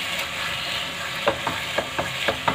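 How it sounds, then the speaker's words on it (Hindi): Gajar ka halwa, carrot pudding, is stirred steadily in a pan, with soft regular scraping strokes over a low, constant sizzle. "अब इसको हम बराबर हिलाते रहेंगे।"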